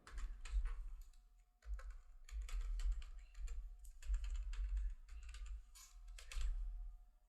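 Typing on a computer keyboard while entering transport details into Tally Prime accounting software: bursts of close, crisp key clicks in uneven runs separated by short pauses, quiet and alone.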